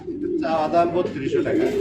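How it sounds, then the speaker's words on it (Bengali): Soft, low cooing from a pair of short face pigeons, a couple of throaty rolling calls close by, with some background murmur. "এখানেও রয়েছে এক পেয়ার কবুতর এটা হচ্ছে শর্ট পেস কবুতর"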